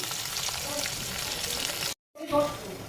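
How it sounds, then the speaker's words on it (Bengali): Sliced onions fry in oil tempered with whole cumin, dried red chilli and bay leaf, a steady close sizzle that cuts out briefly, then returns with a soft voice over it. "গোটা জিরে শুকনো লঙ্কা তেজপাতা ফোড়ন দিয়ে পেঁয়াজ দিয়ে দিয়েছি"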